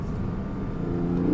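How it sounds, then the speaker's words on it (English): Porsche 718 Boxster flat-six with sport exhaust on, a low, steady engine rumble at light throttle heard from inside the car, brief and fairly quiet. "when you have the sport exhaust on, just like the other car, that's when it really sounds very nice, like a flat 6 should"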